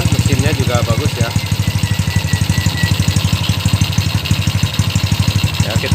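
A Yamaha Jupiter Z motorcycle engine idles close by after a new cylinder block is fitted, with a rapid, even putter, and a voice is heard briefly near the start.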